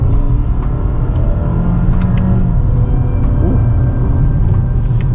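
A 2022 Toyota Camry with an 8-speed automatic pulls hard after a paddle-shift drop to second gear, its engine droning loud and steady over deep road rumble from inside the cabin.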